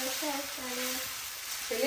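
Dosa batter mixed with onion sizzles on a hot pan, a steady, faint, crackling hiss that runs throughout while a voice talks quietly over it.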